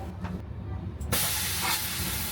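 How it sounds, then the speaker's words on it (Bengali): A western-style toilet in a train washroom flushes with a sudden loud rushing hiss of water that starts partway through and holds steady to the end, after a quieter stretch of background rumble. "ফ্লাশও ঠিকঠাক কাজ করছে"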